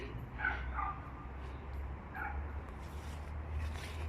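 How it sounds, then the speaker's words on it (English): Dogs bark faintly in the distance outside Russian apartment buildings, a few scattered yips over a low steady background rumble. "dogs barking."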